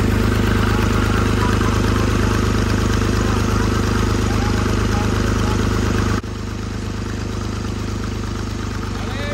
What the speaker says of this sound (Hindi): अब मैं ट्रैक्टर चलाने वाला हूँ और देखते हैं कैसा लगता है